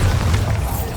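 A Bombarda spell explodes in the Hogwarts Legacy video game, a loud, close boom with heavy low rumble that fills the whole second.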